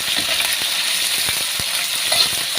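Meat frying in a pan during home cooking, a steady bright sizzle with a few soft pops and clicks, close and alone.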